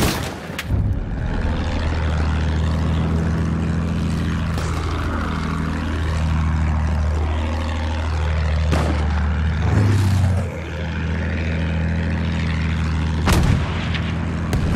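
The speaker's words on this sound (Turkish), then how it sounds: "Düşman bombardıman tayyaresi." An enemy bomber aircraft in Battlefield 1 drones loudly with a throbbing propeller roar that swells and dips, punctuated by several sharp booms of gunfire or explosions.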